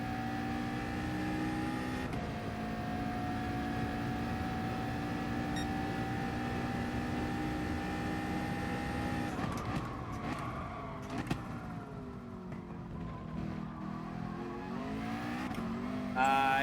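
A race car engine in the GT Sport video game drones through a practice lap, holding a steady high whine, then dropping and climbing again as the driver brakes and accelerates through corners, loud and close.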